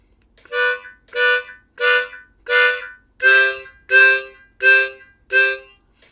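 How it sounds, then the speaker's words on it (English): Eight evenly spaced pulses of one harmonica note, steady beat with short gaps between, close and clear. "this time we'll pulse. So we're saying da for each beat."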